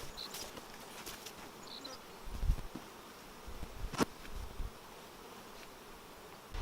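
Honeybees drone steadily around open mini mating nuc hives, a close continuous buzz with occasional bees passing near and a few bumps of frames being handled.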